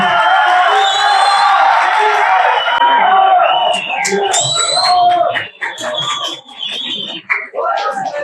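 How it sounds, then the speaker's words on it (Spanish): A seminar audience claps for the coordinator, a dense burst of applause for about three seconds that fades into a speaking voice with background murmur. "Adelante, por favor, un aplauso."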